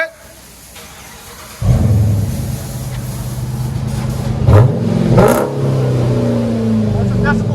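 A Dodge Charger R/T with a 5.7L HEMI V8 and budget aftermarket exhaust fires up and revs, a loud, deep rumble that swells and surges in pulls after a quiet start, with voices talking underneath.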